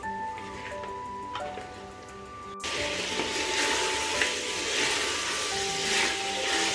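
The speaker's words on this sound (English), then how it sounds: "Fry the mutton before adding all the other powdered spices." Mutton hits a hot pot and sears in oil for Kashmiri rogan josh, a soft hum giving way to a sudden, loud, steady crackling sizzle close by.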